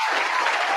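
Audience applause at a live interview show, a dense steady burst of clapping that fills the brief moment, loud and close, with no talk over it.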